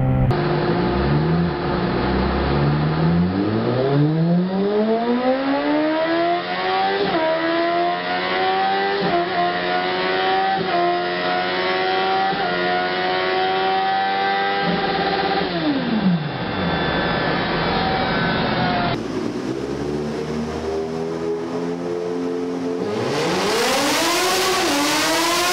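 A Yamaha XJ6 and a Suzuki Bandit 650 run on a dynamometer, the engines climbing through repeated loud revving sweeps with gear-like steps, then dropping off before another rising run.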